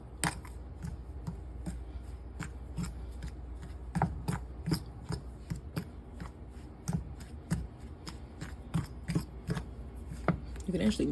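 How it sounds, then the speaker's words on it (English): A fork scrapes and taps through a bowl of streusel topping for chocolate chip muffins, giving a busy run of quick, irregular clicks and scratches close by, with faint talk in the background. "now we want to mix this together with a fork"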